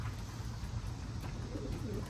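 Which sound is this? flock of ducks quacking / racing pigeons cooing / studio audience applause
racing pigeons cooing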